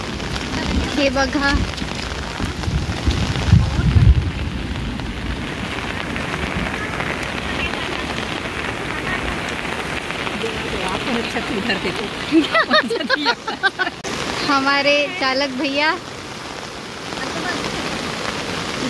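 Heavy rain falls steadily on surfaces nearby as a dense, continuous patter, with people talking over it at several points.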